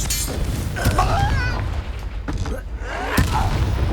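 The Confringo explosive spell going off in Hogwarts Legacy, loud booming blasts and crackling impacts layered over game sound effects, with voices speaking over the action.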